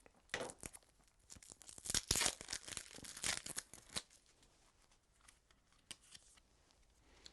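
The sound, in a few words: handling a deck of small board game cards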